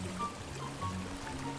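Water flows and trickles through a drain in the video game Drainsim, a faint, soft, brief gurgle.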